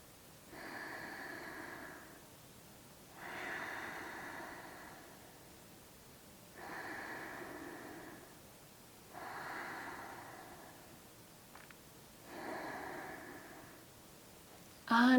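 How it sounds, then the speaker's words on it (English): Slow, steady breathing held in a standing yoga bind pose: five long, audible breaths in even cycles, each a soft rushing swell and fade, close and alone with no talk. "Take a few breaths here."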